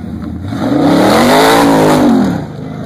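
A modern Mopar car at a November reunion show at Vargo Dragway revs hard, its loud engine note climbing to a sustained roar and then falling back, close by with no talk.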